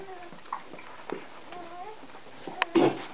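Thin, high-pitched cries of a newborn Rhodesian Ridgeback puppy come in several short, faint squeaks with quiet gaps between them, ending in a louder burst.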